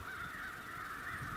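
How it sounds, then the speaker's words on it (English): Crows mobbing a raptor, giving a steady chorus of harsh caws that runs continuously and fairly loud throughout, with no talk. "The crows all seem a little overzealous in their mobbing behaviors"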